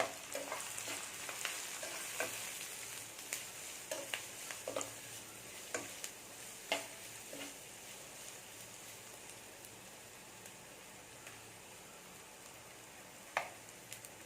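Onions and grated coconut frying in a pan for fish puttu, a faint soft sizzle with scattered clicks of stirring over a low steady hiss, no talk.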